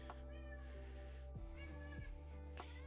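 A thirsty cat meowing close by in a few drawn-out, wavering cries over a steady background hum.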